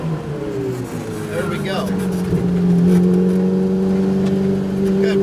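A Ferrari 488 Challenge race car engine drones loudly and shifts pitch as it downshifts and revs, heard up close with a voice briefly speaking over it.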